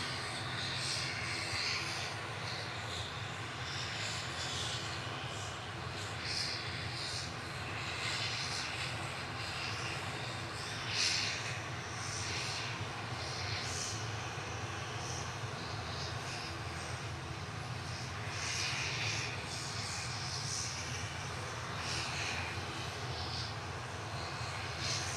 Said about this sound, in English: Heading over to the Isle of Man now for Logan Air with flight 694 GLMTH ATR 72 600.